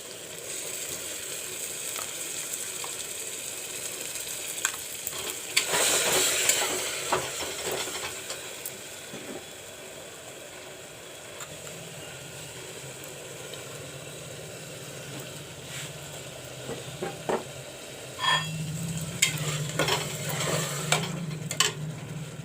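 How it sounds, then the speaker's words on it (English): A paste of dhania, jeera and black pepper frying for mutton curry in a pressure cooker pot gives a steady low sizzle with occasional stirring scrapes, moderately quiet and close, with no voices. "Put in the dhania, jeera and black pepper paste."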